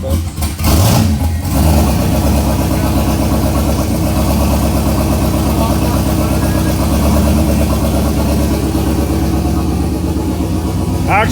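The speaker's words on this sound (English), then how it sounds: "I like the big turbo idle" A big-turbo fourth-generation engine idles loudly and steadily up close, a dense, even rumble holding throughout after a brief disturbance at the start.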